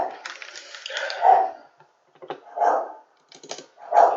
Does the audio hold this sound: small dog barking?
yes